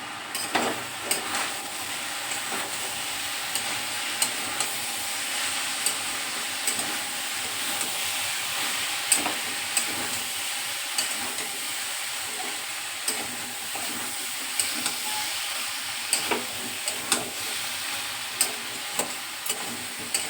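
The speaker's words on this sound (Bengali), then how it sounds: "এবার নেড়ে চেড়ে দেবো।" Spice paste for a Malabar spinach curry fries in a pan. A steady hiss of sizzling runs under repeated scraping and clicking as a utensil stirs it, with no talk.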